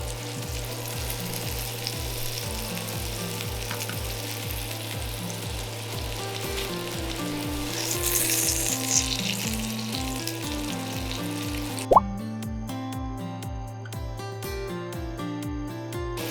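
A cheese-filled hamburger steak, just flipped in a frying pan over low heat, sizzles steadily and closely, with a faint repeating background hum and a single sharp clack near the end.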